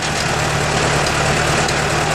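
An Allis Chalmers CA tractor engine runs close and loud at a steady idle, a continuous low rumble with no voices over it.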